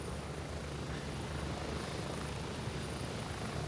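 Steady helicopter rotor and engine drone from the video game Gray Zone Warfare, a continuous close thrum filling the whole moment with no voices over it.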